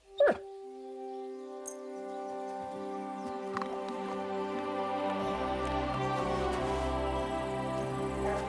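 A dog whimpers in Kingdom Come Deliverance II, a short, thin whine near the start, followed by layered, sustained musical tones that swell and fill the rest of the moment.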